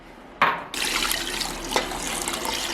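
Water pours from a tap into a pressure cooker over matumbo with salt, chilies and a bay leaf, starting with a sharp splash and settling into a steady, close, rushing stream.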